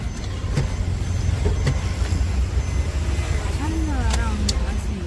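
A road vehicle passes behind the listener, its steady low engine rumble holding throughout at moderate distance, while voices talk over it and a few brief higher tones break through.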